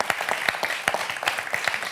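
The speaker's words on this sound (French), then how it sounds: "vous pouvez vous applaudir parce que vous êtes super" Studio audience clapping for themselves on a French TV quiz show, a loose, fairly sparse patter of distinct claps over two seconds, close and fairly loud with no speech.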